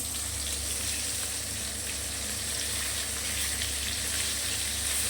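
Paneer frying in a pan, a steady close-up sizzle and crackle that holds at an even level throughout without any talking.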